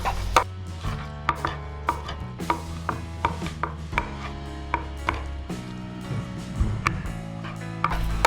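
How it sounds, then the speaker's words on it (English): Heavy knife chopping raw chicken into strips on a board, a steady series of sharp, close knocks about every half second, alone without talk. "now you use a heavy knife. First, just cut into strips."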